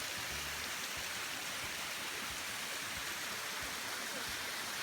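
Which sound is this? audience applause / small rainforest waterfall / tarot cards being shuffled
small rainforest waterfall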